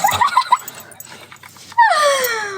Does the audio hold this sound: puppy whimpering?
yes